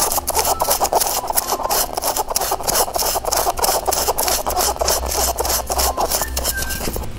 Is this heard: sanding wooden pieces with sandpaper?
yes